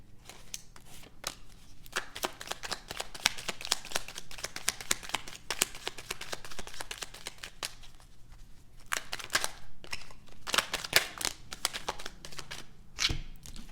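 Tarot cards shuffled in a long run of quick, crisp riffling and flicking, a dense patter of papery snaps that swells and eases over several seconds, close to the microphone with no talking.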